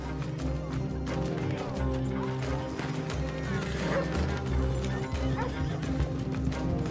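A horse's hooves clip-clop in Red Dead Online, with whinnying and neighing over dense game sound and music, steady and close throughout.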